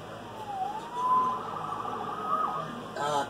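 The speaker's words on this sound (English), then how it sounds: "Saved by the siren." A police siren in the Spider-Man video game wails up and down in a clear rising and falling sweep, fairly close and loud over a low city hum, with no voices.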